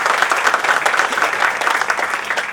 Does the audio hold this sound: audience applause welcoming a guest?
yes